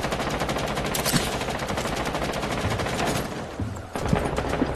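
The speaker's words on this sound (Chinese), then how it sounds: "看，我终于发子弹能爆到他了" Continuous rapid automatic gunfire from a shooter video game hammers away at close range, loud and dense. It breaks off briefly near the end before a few more shots, with no voices over it.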